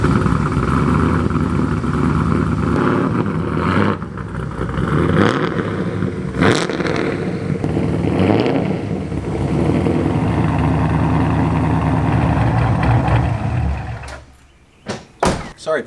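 A Porsche 996 Turbo engine runs with a continuous broadband roar for most of the stretch. Clunks and door-like knocks sound over it, and it cuts off near the end, followed by a few sharp bangs.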